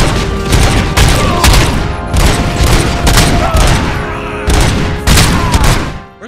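Gunfire in the video game RoboCop: Rogue City comes as loud, close bursts of rapid booming shots in several clusters separated by short gaps, with no talking.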